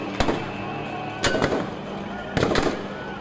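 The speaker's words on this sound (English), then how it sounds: "The military responded with gunfire." Military gunfire at Rabaa Square during clashes with protesters, three sharp loud cracks spaced about a second apart, each followed by a short rumbling echo.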